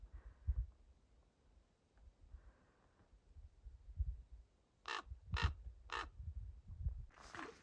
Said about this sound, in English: Look at that raven taking a watch up there.